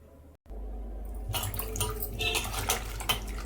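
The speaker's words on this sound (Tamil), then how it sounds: "இதை தண்ணியில் போட்டு நல்லா கழுவி எடுத்துக்கலாம்." After a soft lead-in and a brief pause, water splashes and sloshes up close, with light clinks as ivy gourds are washed in a basin.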